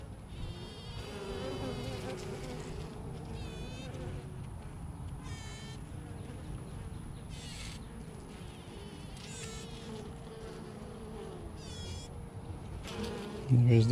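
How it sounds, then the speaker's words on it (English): Honeybees buzzing inside an open beehive during a hive inspection, a dense continuous hum with overlapping wingbeat drones rising and falling, close and fairly soft, a faint voice briefly under it. "I don't know if you guys can hear these bees. I've never heard them make that sound."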